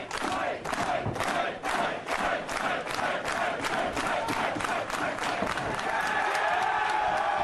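A wrestling crowd at a Canadian wrestling match between Lance Storm and Christian Cage cheers and chants loudly, with rhythmic clapping beats running through a sustained roar of voices.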